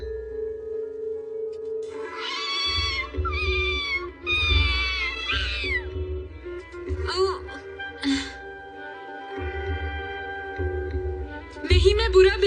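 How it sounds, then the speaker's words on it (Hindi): A cartoon kitten meows in a run of high, plaintive cries, some strained like whimpers. A voice speaks between and under the calls. "क्या मैं इस बिल्ली के बच्चे को बचाने की कोशिश कर रहा हूँ?"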